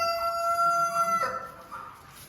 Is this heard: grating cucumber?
no